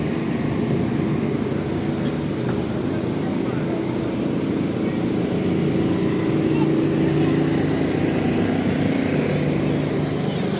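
A continuous low mechanical drone of running power generators humming steadily in central Lviv during a power outage, with street noise and faint voices around.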